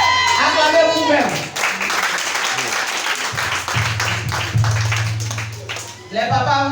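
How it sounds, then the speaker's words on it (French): A church congregation at a women's service applauds and cheers, a loud stretch of dense clapping and voices, with people talking and calling out over it. "Acclamez vous-même."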